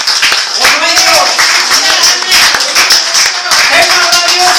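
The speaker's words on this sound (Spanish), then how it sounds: "Dale un aplauso." Church congregation clapping during a worship service, loud rhythmic applause beating steadily throughout, with voices calling out and speaking over the claps.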